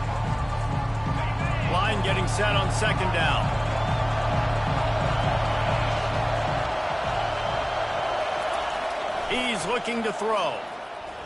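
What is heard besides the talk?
home crowd cheering in Madden football video game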